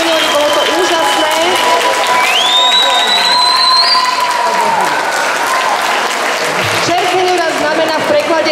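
Audience applause for a children's performance at a Roma Holocaust memorial event in a synagogue in Liptovský Mikuláš, sustained and loud throughout, with cheering and a voice over it.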